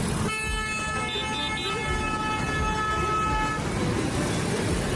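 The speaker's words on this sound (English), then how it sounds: "At traffic jams, people honk their horns for a long time" Car horns honk in a congested Lahore traffic jam, several held long and overlapping in steady tones above a dense, loud rumble of engines and street noise, with no pauses between them.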